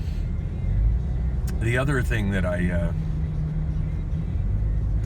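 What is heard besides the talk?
freeway traffic heard from inside a car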